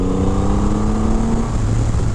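A 2023 Triumph Rocket 3 GT, a 2500 cc motorcycle, accelerates with a loud, close, deep engine roar, steady rumbling tones rising in pitch, and a wash of wind noise with no talking.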